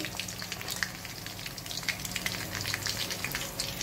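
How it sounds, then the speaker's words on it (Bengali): A large tilapia, about one kilogram, fries in oil with a steady, soft sizzle and scattered crisp pops and spits throughout, fairly close and quiet with no voices. "তো আমরা আজকে এই ফিশ ফ্রাইটা বানিয়েছি।"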